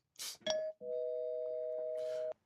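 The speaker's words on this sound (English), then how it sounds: "I'll hit the spoiler bell" A spoiler-bell sound effect rings out: two short chiming bursts, then a clear sustained electronic bell tone held for about a second and a half, and a final bright burst as it cuts off.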